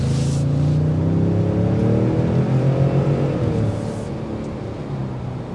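A 2023 Ford F-150 Tremor with a twin-turbo EcoBoost engine accelerating on a test drive gives a loud, steady engine drone with a rising tone, easing slightly toward the end.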